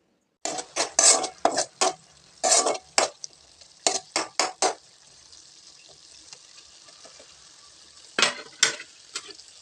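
Broad beans cooking in a pan with a little water, a quick run of close metallic stirring scrapes, a quiet gap with faint bubbling, then another short burst of stirring.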